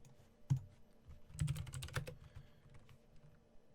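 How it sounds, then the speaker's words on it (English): Fingers type a command on a computer keyboard in short, quiet, close bursts of key clicks. "And I'm going to just type it out."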